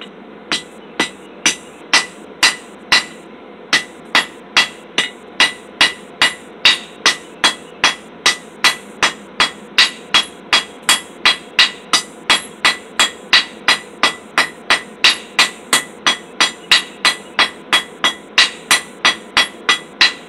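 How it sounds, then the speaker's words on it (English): Steady, evenly spaced metallic ball peen hammer strikes on hot metal at a forge, loud and close, with a brief pause early on before the rhythm resumes. "I swapped over to my ball peen hammer."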